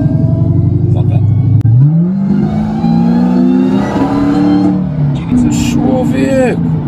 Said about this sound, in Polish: wydawało mi się, że dodałem gazu, a to dopiero był początek, kiedy dodajesz bardziej, to tam jest jak gdyby jeszcze więcej tego